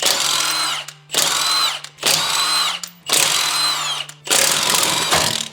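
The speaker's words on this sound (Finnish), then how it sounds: "Eli sieltä eka isolla pyssyllä auki." A large impact wrench loosening the wheel bolts on a BMW E36, firing in four loud, close bursts of about a second each with short gaps between, alone with no talk.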